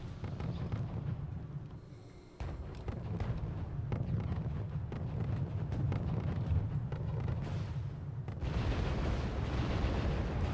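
Sustained artillery bombardment in the Wargame Red Dragon real-time strategy game, a dense rumbling wall of distant booms and bursts rolling on without pause, swelling louder toward the end.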